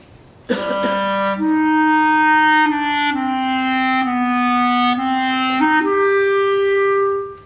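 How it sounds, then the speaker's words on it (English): Solo clarinet plays the slow opening of a low-register etude, a sharp attack then long sustained tones stepping gradually downward and back up, close, clean and steady, with no talking. "this low clarinet etude, the opening should sound like this when I perform"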